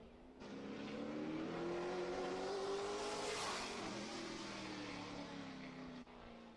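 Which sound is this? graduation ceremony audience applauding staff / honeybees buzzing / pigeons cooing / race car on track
race car on track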